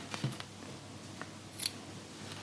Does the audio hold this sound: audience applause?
no